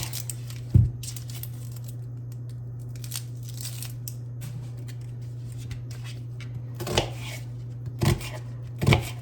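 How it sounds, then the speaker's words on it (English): Knife cutting an onion on a board in a kitchen, a few sharp chops spread out over a steady low hum, with single cuts near the start and a quicker cluster toward the end. "Cut a little more of this onion."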